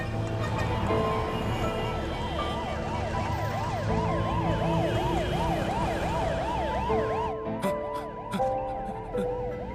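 A loud ambulance siren wails continuously with rising and falling tones, close by amid traffic noise, ending with a few sharp clicks.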